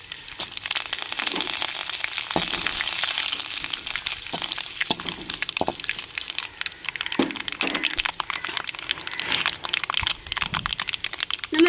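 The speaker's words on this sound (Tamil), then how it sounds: "எண்ணெய் சூடாச்சுங்க கடுகு போட்டுக்கிறோம்" Mustard seeds, curry leaves and dried chillies sizzle and crackle in hot oil for rasam, with sharp pops and spattering throughout, close up.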